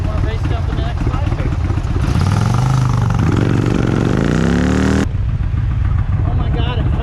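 An Indian Challenger motorcycle roars loudly on a test ride, engine note climbing as it accelerates through the gears, with heavy wind rush throughout.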